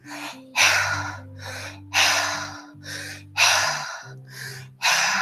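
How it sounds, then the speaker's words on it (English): Loud, heavy breaths rush in and out at a slow, steady pace during a guided breathing exercise, with a soft low musical drone underneath. "Keep breathing in and out."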